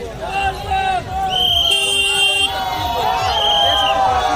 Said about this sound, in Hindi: ज़्यादा भीड़ लगा हुआ है।